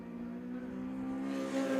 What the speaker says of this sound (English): They're really racing away now from Gavin Kilkey in the BMW